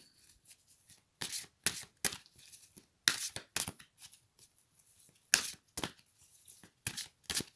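Tarot cards shuffled and drawn by hand, a dry papery riffling that comes in short bursts with brief pauses between them, close and fairly quiet with no voices.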